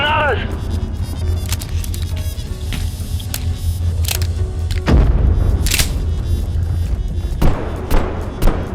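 A grenade goes off in the video game Abiotic Factor: a deep, booming blast with a heavy low thud, rising out of steady game noise and continuous gunfire-like clatter midway through.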